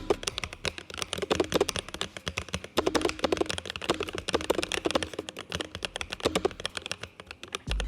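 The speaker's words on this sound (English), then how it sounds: "I love typing on this thing" Steady, fast typing on a computer keyboard at a loft office desk, with dense, even clicks and clacks close up throughout, no talking.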